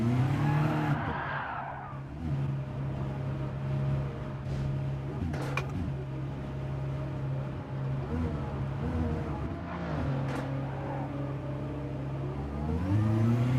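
A race car in a racing video game spins out after one tyre drops onto the grass, its engine droning steadily and revving throughout with tyre squeal, loud and close, without talk.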